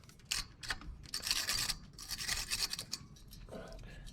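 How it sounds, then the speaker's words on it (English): Corrosion gunk is scraped off a car battery connector during a 2013 Nissan Rogue battery replacement, making repeated short, rough scraping strokes up close in irregular bursts. "Scrape it good. Get all the gunk."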